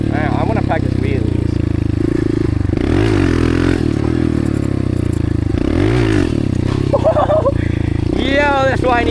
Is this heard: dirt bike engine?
yes